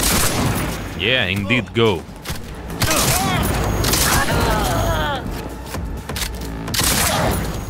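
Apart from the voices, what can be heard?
shotgun fire in the video game Cyberpunk 2077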